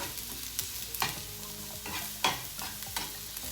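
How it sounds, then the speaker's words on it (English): Mushrooms frying in hot oil while being stirred, a continuous sizzle broken by several spatula scrapes and knocks against the pan, close up with no talking. "Now I'm going to put mushroom."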